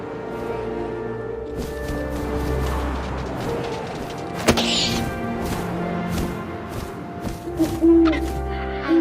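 An owl hoots in the video game What Remains of Edith Finch, soft repeated hoots set over wind and layered ambient game sound, with a sharp thunk partway through.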